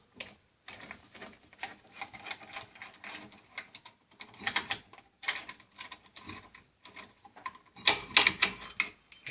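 Front brake caliper assembly on a 2004 Renault Scénic 2 being loosened and pulled off, heard as a string of close ratcheting clicks and metallic mechanical clatter with short pauses, then a brighter burst of rattling near the end; no talking.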